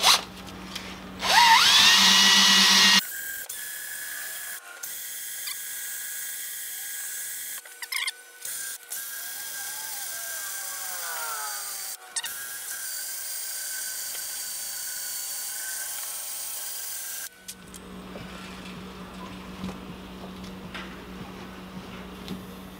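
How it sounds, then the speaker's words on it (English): A drill spinning a pinstripe eraser wheel against car paint to strip off an emblem, a loud high-pitched whine that holds steady and shifts in pitch as pressure changes, running continuously for about fifteen seconds between quieter stretches. "I've got this pinstripe eraser chucked up into the drill"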